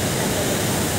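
A brief burst of stream water rushing by, a steady broadband wash that is fairly loud and close, lasting only about a second.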